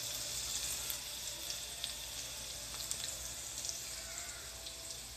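Garlic sizzling in hot oil in a pan, heard as a steady, close bright hiss with faint crackles scattered through it, with no voices over it.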